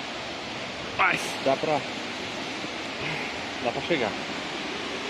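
Broad, steady rushing roar of the Tombador waterfall in Nobres, Mato Grosso, filling the whole scene while a voice speaks briefly over it.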